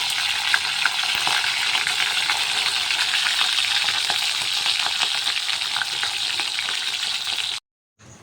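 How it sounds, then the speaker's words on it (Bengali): Fish pieces frying in oil in a home kitchen on a rainy day, a dense crackling sizzle with scattered pops, close and steady, then cutting off abruptly near the end. "মাছগুলোকে না আর একবার তেলে ভেজে নিই"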